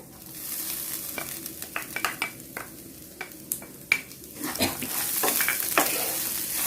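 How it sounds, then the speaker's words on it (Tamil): Grated coconut lightly roasting in a hot pan for peanut chutney: a soft, continuous sizzle broken by frequent scraping and tapping strokes of a spatula, growing slightly louder toward the end. "அதையும் ரொம்ப நேரம் வறுக்க வேண்டாங்க, லைட்டாக மட்டும் வறுத்துக்கோங்க"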